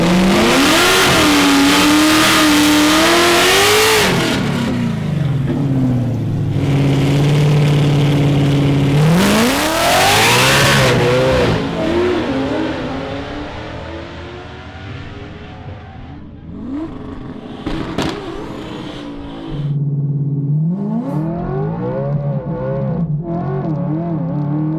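Drag racing cars accelerating hard at a strip, loud engines revving and climbing through gears with rising whines, one pass fading off before another car launches close and loud.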